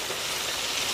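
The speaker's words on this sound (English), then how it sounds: "deep frying." Food deep frying in hot oil, a dense, continuous crackling sizzle at close range, steady and alone for a moment.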